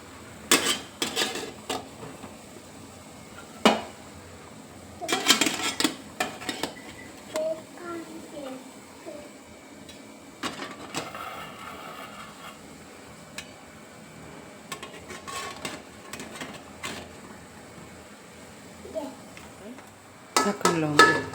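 Metal pots filled with sago pearls are set one by one into a steamer in a home kitchen, giving scattered clinks and clatters of cookware with quieter handling between them.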